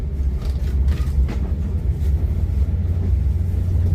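A passenger train on the Hanoi to Ninh Binh line in Vietnam, stopped at Nam Binh station, gives off a steady low rumble and idling drone throughout, with faint mechanical clanks above it and no voices.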